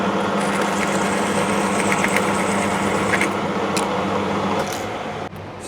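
A lathe takes the final cut on a Whitworth hex nut, running with a steady, close mechanical hum and a light chatter that eases slightly near the end.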